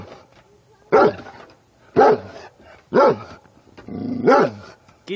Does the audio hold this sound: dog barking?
yes